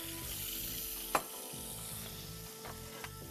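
Onion and pepper sofregit for a seafood paella fry in a pan, a close, steady sizzle with a couple of sharp utensil clacks, over a low background hum.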